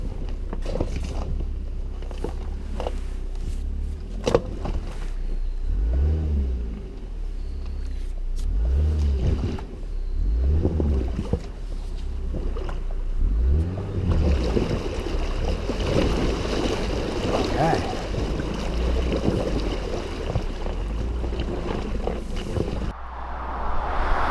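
A 2021 Genesis GV80 SUV rumbles along a bumpy off-road track while water splashes and sloshes around it in repeated surges, with engine noise steady throughout.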